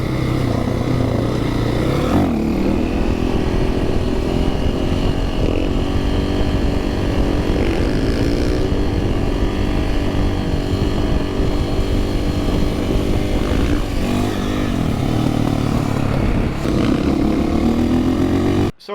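Supermoto motorcycles on a group ride, engines droning loud and continuous with repeated revving rises and falls as bikes accelerate, including pulls for wheelies, with wind buffeting throughout.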